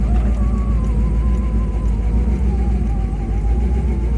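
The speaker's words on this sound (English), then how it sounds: "That's the cam that you can hear in the car." A Chevrolet SS engine with a lumpy aftermarket camshaft idles loudly and steadily nearby, a low uneven rumble with a loping rhythm that barely changes over a few seconds.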